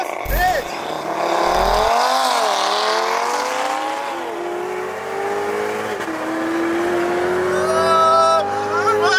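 A Corvette ZR1 and a big-turbo Audi TT RS launch side by side in a drag race, engines roaring loud and close with rising revs, gear shifts and tire squeal, over a steady throbbing drone.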